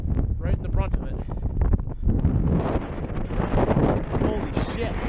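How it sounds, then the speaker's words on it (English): Strong gusting wind buffets the microphone during a fishing outing in heavy weather, roaring continuously and loudly with rustling bursts, while people talk over it. "We got a way different direction of wind coming here now."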